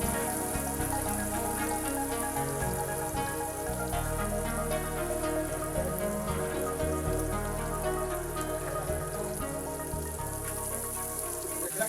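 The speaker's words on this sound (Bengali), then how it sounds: "এবার সেই তেলে কিছু পরিমাণে পেঁয়াজ কুচি দিয়ে দিচ্ছি" Chopped onions fry in the oil left over from frying tengra fish. A dense, even crackle and sizzle carries on without a break.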